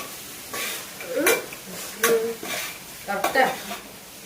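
Cooked chicken being stirred into masala for Malabar dum biryani, with a steady sizzle in the pan and a few distinct scraping stirs of a spoon against the pot, close by.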